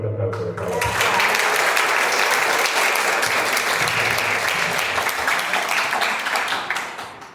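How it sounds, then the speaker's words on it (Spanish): A seminar audience breaks into loud, sustained applause, many hands clapping together for several seconds before it tapers off at the end. "Vamos a recibirla de momento con un fuerte aplauso de favor."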